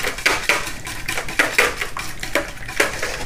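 A utensil knocks and scrapes in a bowl with a quick, regular rhythm as eggs and sugar are mixed, the clinks close and fairly loud, with no talk.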